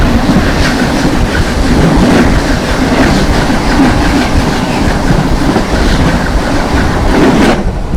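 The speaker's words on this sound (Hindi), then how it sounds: "सामने से आ रही है न्यू दिल्ली से चलकर हावड़ा की ओर जाने वाली हावड़ा राजधानी एक्सप्रेस" The New Delhi–Howrah Rajdhani Express, running on LHB coaches, roars past at speed, a loud, steady rush with rhythmic clickety-clack of wheels over rail joints, fading abruptly at the end.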